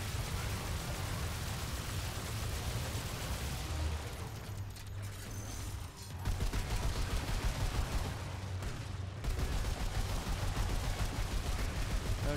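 Loud gunfire in the game Remnant 2, a dense, continuous barrage of shots with a brief lull midway before the firing resumes at full intensity.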